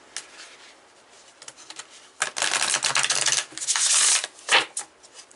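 7 Energies Oracle cards are shuffled close by, first as faint scattered ticks, then as loud, rapid riffling and rubbing bursts with short pauses between them.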